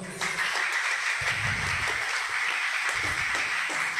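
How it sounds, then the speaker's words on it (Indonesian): A crowd claps in a steady, dense patter of applause, fairly close and continuous throughout. "Kok ya tepuk tangan gitu loh"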